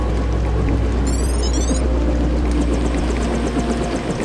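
A helicopter in the Deus Ex video game: steady, loud rotor and engine drone with a low rumbling hum throughout, plus a brief high whine sweeping in early on, no talk.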